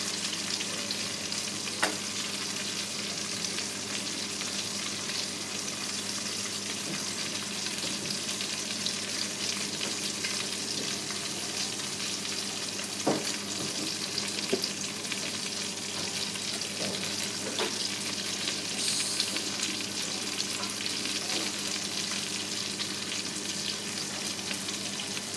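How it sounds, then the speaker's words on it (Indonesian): Baby spinach wilts in a creamy lemon chicken sauce in a home kitchen pan, giving a steady low sizzle and bubbling simmer with occasional soft stirring scrapes, continuous and close, with no talking. "Dan kita tinggal masak sampai mendidih, sampai bayamnya juga layu."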